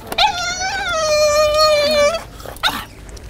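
Dog in a store aisle giving a drawn-out, high whining yelp followed by a short sharp yip, close and fairly loud with no talk over it.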